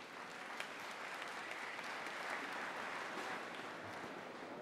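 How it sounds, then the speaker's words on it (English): Steady applause from a convention audience, many hands clapping evenly for several seconds at moderate distance, with no voices standing out. "Let's have another round of applause for all of these incredible role models"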